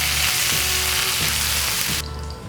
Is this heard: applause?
no